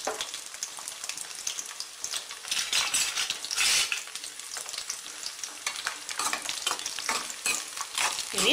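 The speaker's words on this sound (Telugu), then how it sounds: "ఫ్లవర్స్ వేసి వేయించుకుందాం" Cauliflower florets frying in hot oil in a pan, with a bright, crackling sizzle and rhythmic stirring scrapes that swell and fade throughout.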